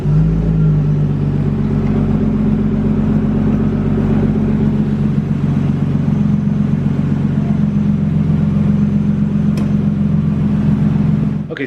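A car engine runs loud and close with a steady low rumble, its pitch shifting slightly near the start. It keeps droning evenly for about eleven seconds before cutting off abruptly.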